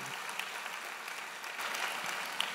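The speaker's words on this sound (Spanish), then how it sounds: "La gente aplaude porque se acordó de lo que iba a decir" Audience applause at a political speech, a steady broadband clatter of many hands clapping continuously throughout, moderately loud with no clear talk over it.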